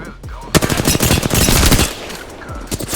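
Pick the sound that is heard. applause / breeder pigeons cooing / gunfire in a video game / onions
gunfire in a video game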